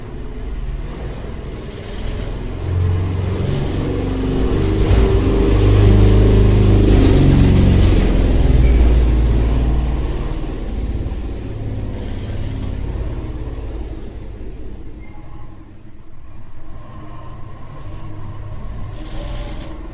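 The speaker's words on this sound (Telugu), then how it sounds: "ఫస్ట్ కుట్టే ముందు లాక్ వేసుకొని కుట్టుకోవాలి" A sewing machine runs continuously while stitching a halter neck kurti, with a steady close mechanical whir that rises and eases over the span before quieting near the end.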